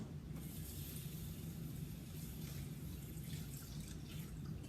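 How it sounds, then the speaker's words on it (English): Two cups of water being poured into a Tupperware microwave rice cooker, a faint, steady trickling and splashing that continues quietly throughout. "Then you're going to add 2 cups of water."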